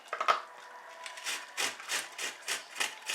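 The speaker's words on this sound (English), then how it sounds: "Grate some onions, which is a very quick way, and it gives it a flavor." Onions are grated by hand in a home kitchen, giving a series of quiet, rhythmic rasping strokes up close, with no talk.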